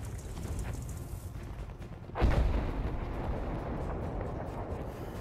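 A heavy artillery strike in Battlefield V lands with one sudden deep boom midway, followed by a rumbling roll of wartime game ambience.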